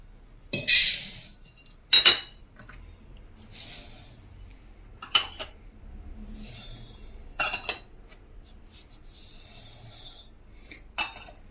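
Rice and urad dal poured into a metal vessel for masala dosa batter, giving a few sharp clinks and rattling grain bursts spaced across the stretch, close and moderately loud with quiet gaps between.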